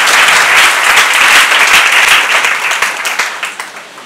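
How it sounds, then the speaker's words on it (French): A church congregation bursts into loud, sustained applause and clapping that fills the room, then slowly fades toward the end. "Là, on acclame le Seigneur pour la question."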